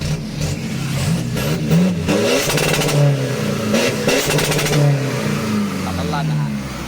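A remapped 1.9 engine fitted with a smoke on-off switch is revved on the throttle in repeated loud, close bursts, each rising and falling in pitch, while someone talks over it.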